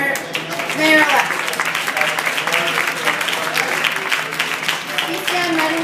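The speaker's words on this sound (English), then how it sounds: "How about a round of applause for our mayor-elect?" An audience at a New York City event on early childhood education and after-school programs applauds the mayor-elect, with dense, steady clapping filling the whole stretch while voices carry on over it.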